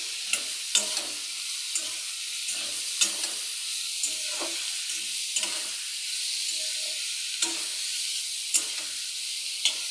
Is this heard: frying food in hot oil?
yes